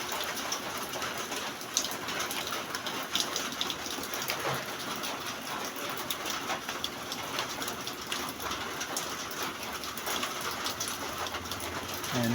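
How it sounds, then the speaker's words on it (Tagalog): Heavy rain during a storm pours steadily outside a barracks shelter, a dense continuous hiss with scattered drips and taps, moderately loud and unbroken for the whole stretch. "Ang lakas ng ulan."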